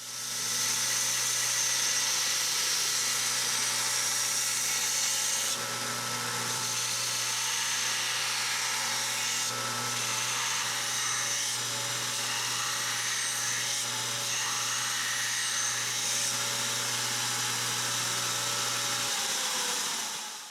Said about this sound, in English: I'm gonna go ahead and do the rough grinding